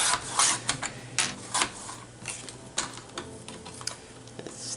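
Paper scraps being cut with scissors or a trimmer for DIY pocket tags, a close series of short crisp snips and rustles in an irregular rhythm, quiet and without talk.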